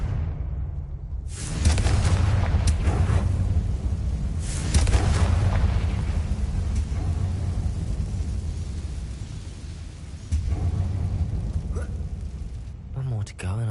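In Hogwarts Legacy, a Confringo blasting spell erupts with a heavy boom and a long rolling rumble, followed by further bursts and crumbling noise, with a voice talking over the action.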